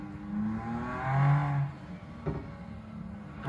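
Gold BMW M2 driving through city streets, its engine and turbo rising in a whirring, revving swell that fades, followed by a short sharp burst, fairly close and moderately quiet.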